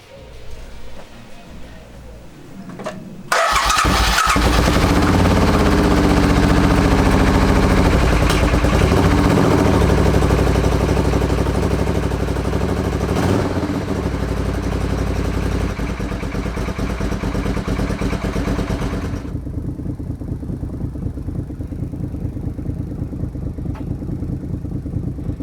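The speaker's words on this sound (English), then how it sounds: "Let's start it up and go for a bit of a test ride." A 1987 Suzuki Intruder VS700 motorcycle cranks and fires up, then settles into a steady, loud, close idle that holds for about fifteen seconds before the sound drops to a quieter, steadier level.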